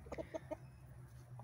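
A rooster and chickens cluck in a garden. Several quick, faint clucks come in a short run near the start, over a low steady hum, and one more soft call follows near the end.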